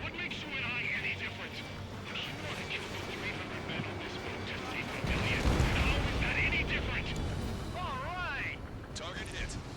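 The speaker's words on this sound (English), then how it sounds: "Confirming explosions. The rail cannon's been destroyed" Explosions boom as a rail cannon is destroyed in the Ace Combat 7 video game, with loud rumbling blasts and crackling debris layered over jet engine roar and radio chatter, the impact swelling midway through.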